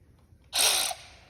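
A small DeWalt power drill, borrowed for removing the carburetor of a Briggs & Stratton 500 series single-cylinder engine, whirs in one short, loud, high-pitched burst of about half a second, then stops.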